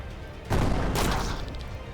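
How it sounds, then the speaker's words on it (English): A cannon fires in the fantasy RPG Chained Echoes, a sudden loud blast followed by a second burst and a rumbling tail that fades slowly, with no talk over it. "Defend yourself against that cannon."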